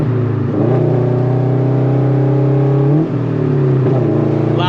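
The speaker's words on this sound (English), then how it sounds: "Loud exhaust." A heavily modified FRS/BRZ/86 with a loud aftermarket exhaust drones steadily on a back road, close and constant, rising and falling as the engine revs. A brief lift-off comes midway before it pulls again.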